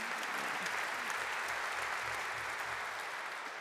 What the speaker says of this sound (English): Another round of applause, I reckon.